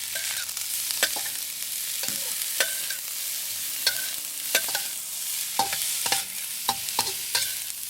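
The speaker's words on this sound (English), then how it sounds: "I'm going to stir fry the crab meat in it a little bit" Crab meat stir-fried in a wok with bean sprouts and pepper, a steady close sizzle broken by repeated sharp scraping strokes of a spatula at an irregular rhythm, no voices.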